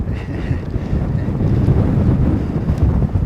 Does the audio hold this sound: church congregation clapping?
no